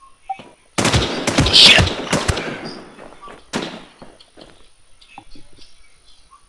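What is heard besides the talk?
machine gun fire in a video game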